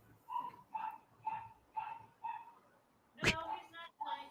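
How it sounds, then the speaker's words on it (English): A dog barks outside in the background, faint and distant, giving about eight evenly spaced yelps and woofs in a steady rhythm with a brief sharp bang partway through. "Who's beating that dog in the background?"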